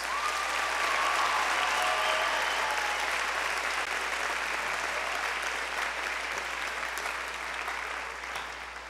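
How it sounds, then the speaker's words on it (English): Audience applause for the first sopranos of the Har-Ber High School choir, a broad sustained roar of clapping from a large crowd that holds steady and then begins to thin toward the end. "Go ahead and give them a round of applause."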